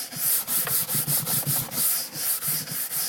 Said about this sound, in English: is you're getting rid of all the excess wax, brushing it until it's incredibly smooth.